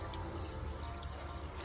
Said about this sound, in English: I'm gonna add some water to this pot right here